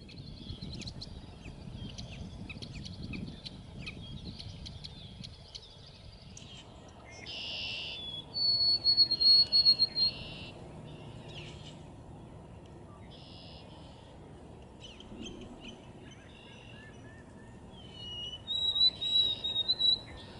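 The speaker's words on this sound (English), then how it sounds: "If you're fortunate enough to hear the songs of each of these birds, you'll notice the difference between them." Songs of a seaside sparrow and a white-throated sparrow: thin, high whistled phrases and buzzy trills arriving in a few separate bursts, moderately close, over a steady low background hiss without talk.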